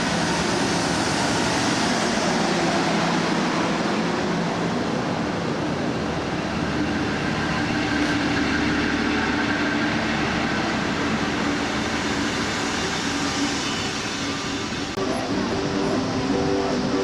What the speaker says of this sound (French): Nous sommes une dernière fois en gare pour voir partir un XPT.